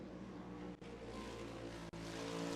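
A loud, continuous Trans Am Series race car engine, around 900 horsepower, roars at high revs during qualifying at Lime Rock, steady and close, with two brief dips in the sound.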